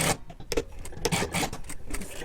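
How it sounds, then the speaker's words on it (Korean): Short bursts of sewing machine stitching on a tailored wool coat, close and fairly quiet, several quick runs separated by brief pauses. "밑에도 4, 5cm 정도 박음질 해주세요"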